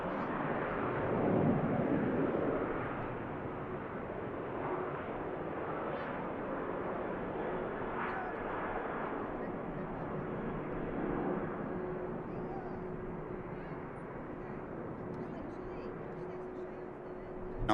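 A red-nosed Norwegian airliner at Manchester Airport rolls out for departure to Copenhagen, its jet engines a broad, steady roar that swells early and holds fairly level throughout, at moderate distance.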